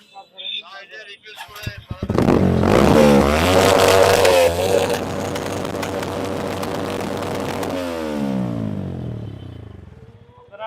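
A motorcycle fitted with a loud aftermarket silencer, stopped during a traffic enforcement check, revs hard and blares loudly and steadily for several seconds, then fades off.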